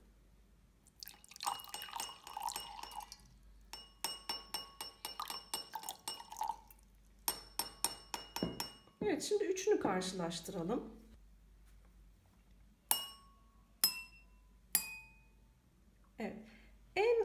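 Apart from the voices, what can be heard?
drinking glasses with different water levels struck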